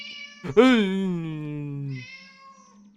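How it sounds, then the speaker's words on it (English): A cat meows in the video game ASPIS, one long, loud, close, drawn-out meow that falls in pitch, then a fainter short meow after it, over a low hum. "Kitty."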